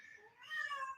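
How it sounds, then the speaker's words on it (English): A house cat lets out a single clear meow, rising and drawn out, close by in a quiet room. "I don't know if you can hear my cat."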